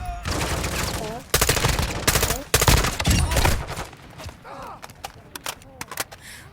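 Bursts of rapid gunfire in Call of Duty: Warzone DMZ, loud and clustered, broken by short pauses and quieter stretches of game sound effects.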